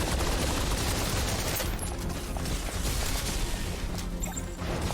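Rapid, dense gunfire fills a battle in the sci-fi shooter video game Snowbreak: Containment Zone, a loud continuous volley of shots and crashes with no pauses.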